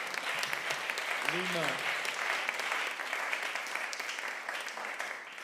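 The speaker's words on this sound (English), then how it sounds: "Clap your hands and give God praise." Congregation clapping in praise at a pastor appreciation service, a steady roomful of applause with a single voice briefly calling out over it early on.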